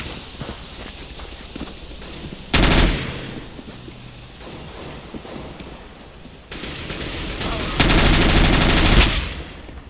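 Counter-Strike: Global Offensive gunfire comes in two loud rapid bursts, one short and a longer sustained spray later, over quieter in-game footsteps and movement.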